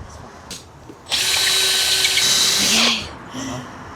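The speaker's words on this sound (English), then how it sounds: "You're about to drill through a knot" A power drill whines loudly and steadily for about two seconds, boring through a knot in wood, then winds down, with a few faint clicks before and after.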